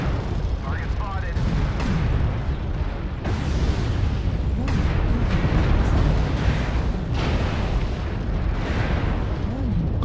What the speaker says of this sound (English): Oh god, the missiles again!